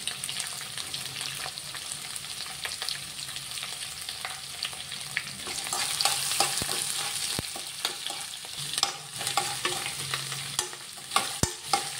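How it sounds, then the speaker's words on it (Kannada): Onion frying in a pan while making a chickpea sundal, a continuous oily sizzle with repeated stirring scrapes and occasional spatula clinks against the pan, close up and alone without speech. "ಈರುಳ್ಳಿ ಎಲ್ಲ ಫ್ರೈ ಮಾಡಬೇಕೀಗ"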